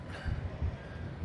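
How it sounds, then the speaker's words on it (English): A BNSF freight train in Montana has its slack stretching out, heard as a series of low, muffled clunks and rumbles from the couplings rolling by at a distance, with no speech. "Did you hear the train just get stretched out?"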